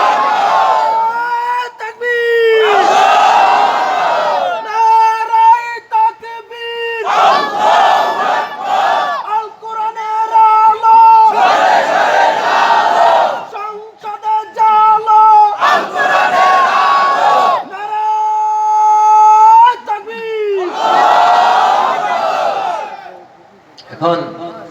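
A large crowd at a Bangla religious sermon roars the takbir chant in repeated loud bursts, a voice calling out between each massed shout.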